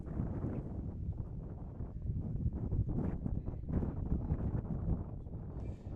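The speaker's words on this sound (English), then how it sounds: "Heavy gusts blowing through here again at Warren Field." Strong wind gusts sweep across Warren Field during a high school baseball game between Brookline and Framingham, a steady low buffeting roar battering the microphone for the whole stretch with no voices over it.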